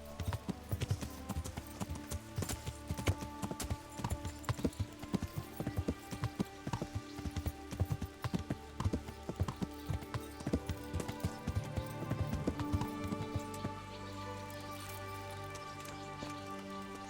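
A horse's hooves clip-clop at a steady walking rhythm in Kingdom Come: Deliverance, clear and close over a soft background, the hoofbeats thinning out toward the end.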